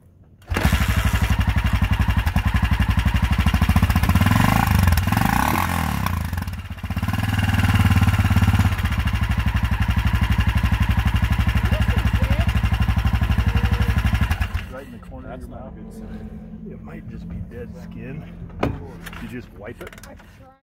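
A started dirt bike engine runs loud and close with a rapid, steady buzzing drone for about fifteen seconds, then cuts out, leaving quieter outdoor sounds and voices.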